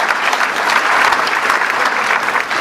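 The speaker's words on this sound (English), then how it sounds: "let's have a round of applause for those folks" Full, sustained audience applause at a police awards luncheon in Burbank, a loud, dense wash of clapping that holds steady throughout with no talk over it.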